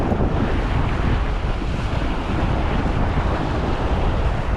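Waves wash and churn steadily against the shore of a fishing dock in Bermuda as the tide comes in, mixed with heavy wind buffeting the microphone.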